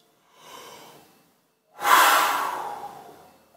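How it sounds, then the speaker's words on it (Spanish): Two forceful breaths from a trumpet breathing warm-up: a softer inhale or exhale first, then a pause and a loud, sustained rush of air that gradually fades, heard close and alone. "ejercicios de activación de los pulmones, de la respiración"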